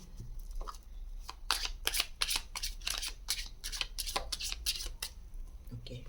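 Tarot cards being shuffled for a reading, a run of soft, quick riffling flutters close up, fairly quiet, with no talk during the shuffle.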